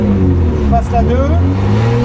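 Drift car accelerating in second gear, engine note rising close by in a short burst, with a person talking over it.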